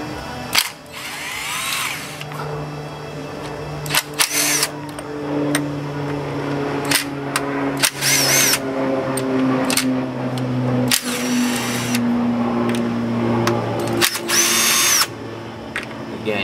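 A power drill loosens the engine rocker bolts on a Pentastar V6 during a roller rocker and lifter replacement, with repeated close whirring bursts separated by short pauses and clicks, plus a steady mechanical hum underneath.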